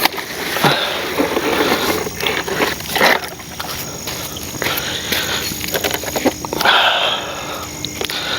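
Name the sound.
Avios Albatros V2 RC plane motor running on water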